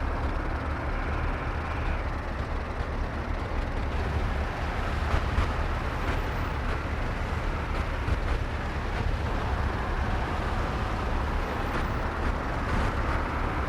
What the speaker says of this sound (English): There is something off with the sound from the engine of the truck that we're riding.